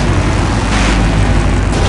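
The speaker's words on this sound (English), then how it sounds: "Now that's an explosion, ladies and gentlemen." A massive explosion in the Full Throttle adventure game roars as a loud, sustained, rumbling blast filling the whole clip without any talk.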